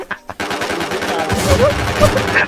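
Rapid automatic gunfire in the Infestation video game, a sustained burst of loud shots following a few brief opening sounds, with a voice talking faintly underneath.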